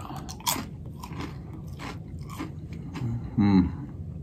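Crispy baked egg white chips are bitten and chewed up close, giving several sharp crunches followed by quieter chewing, with a louder bite near the end.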